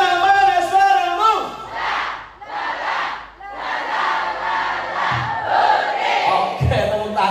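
A crowd of schoolteachers at an event yells back in unison, several loud collective shouts in bursts separated by short pauses, the group answering louder each time with a clamour of many voices.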